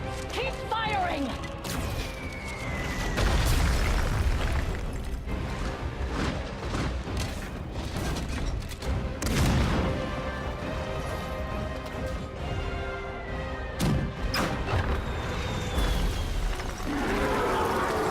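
Cannon and artillery fire in a World of Warcraft battle cinematic, repeated heavy booms and crashes mixed with clanking and shouting voices across a busy battle soundscape.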